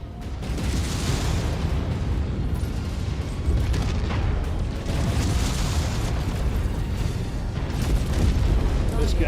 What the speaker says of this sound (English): An AC-20 burst fire.